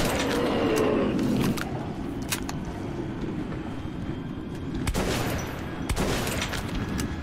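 Gunfire in the shooter video game Metro 2033 Redux: a dense, continuous rumbling barrage with several sharper bursts standing out, loud and steady throughout.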